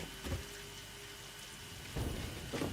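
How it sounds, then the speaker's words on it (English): Steady rain falls in the video game Satisfactory, a dense even hiss that carries throughout, with soft rumbling swells and a few louder bursts. "Apparently there's rain, so that's a thing."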